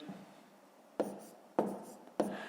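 Pen or chalk writing numbers during a fifth-grade math lesson: three short, crisp scratching strokes at an even pace, close and clear over a quiet background.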